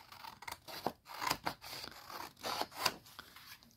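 Scissors trimming the white portion of paper for a stuffed paper bag journal, a series of about eight crisp close snips at an uneven rhythm, quiet and alone without talk.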